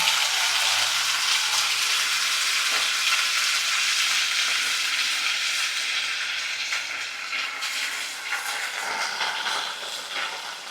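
Mint leaves fry in hot oil with a loud, continuous hissing sizzle that stays close and even throughout, easing slightly toward the end.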